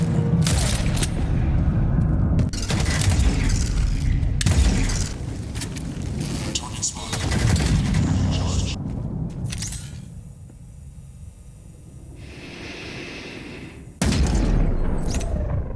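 Heavy gunfire in the game Eve Vanguard comes as loud, punchy bursts and booms separated by short quieter gaps, close and forceful.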